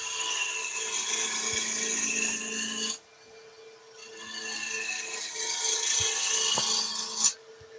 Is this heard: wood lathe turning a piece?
yes